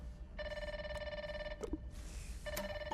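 A telephone rings in the video game Grounded 2, two bursts of a bright electronic bell separated by a short pause and a few soft clicks, with no voices.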